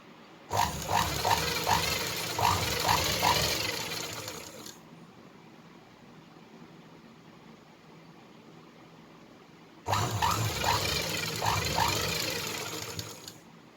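Sewing machine stitching thread piping on a blouse runs in two bursts of about four seconds each, close and fairly loud, with a quiet pause between them.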